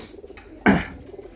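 A male pigeon gives a single short, throaty coo that rises out of a quiet background, nearby and fairly loud, then fades.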